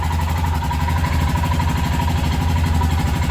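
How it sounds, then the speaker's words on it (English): A Royal Enfield motorcycle engine idles just after a cold start in freezing weather, a steady loud low thumping rumble running unbroken and close. "When you start your Enfield, don't immediately give it loads of throttle. It'll die. Give the engine a few minutes."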